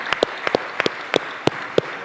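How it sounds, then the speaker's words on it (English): A small group claps for award recipients at a welcome ceremony, with sparse, distinct close handclaps coming in loose pairs at an uneven rhythm. "we should give another round of applause to our rising star and all of our award recipients this"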